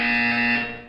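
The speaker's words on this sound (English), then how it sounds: "When you hear the buzzer, look down at the floor." A buzzer in the video game Portal 2 sounds once, a loud, steady electronic tone held for just under a second before fading, with no voice over it.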